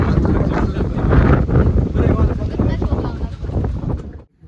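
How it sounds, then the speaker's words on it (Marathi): Loud gusty wind buffets the microphone in a rough roar that fades out abruptly at the end, at Raigad fort. "एवढा वारा एकदम काय ते"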